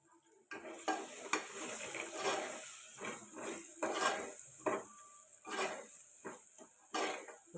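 Onions frying in oil for dhal kichdi, with a spatula scraping and clattering against the pan in repeated bursts over a steady sizzle, loud and close, no talking.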